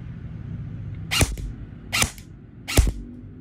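An HFC 203B airsoft AEG rifle fires three sharp, loud single shots at roughly even intervals, close by, over a low background hum.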